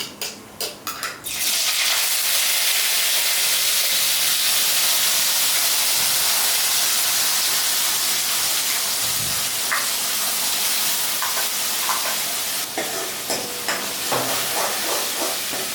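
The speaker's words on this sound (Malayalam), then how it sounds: "നമ്മൾ ഈ അരച്ച് വെച്ച നമ്മുടെ ഉള്ളി പേസ്റ്റ് ഉണ്ടല്ലോ അത് ഇതിനകത്തിട്ട് നന്നായിട്ടൊന്ന് വഴറ്റിയെടുക്കണം" Ground onion paste sautés in a hot pan with a loud, continuous sizzling hiss that starts after a few quick clacks. Occasional utensil taps and scrapes come through near the end.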